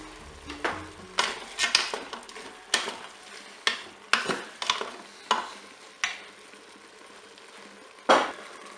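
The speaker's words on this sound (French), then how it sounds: "Je vais ensuite rajouter les oignons." Onions going into a Cookeo multicooker pot with Toulouse sausages in tomato, giving a run of sharp stirring scrapes and clinks over a soft sizzle, with irregular knocks and a louder thump near the end.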